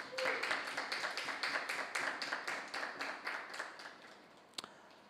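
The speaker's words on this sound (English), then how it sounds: "we thank you very much for that rather tepid applause" Sparse, quiet clapping from a small audience at a debate competition's quarterfinal round: a thin run of separate claps that thins out and fades after a few seconds, with one sharp late clap.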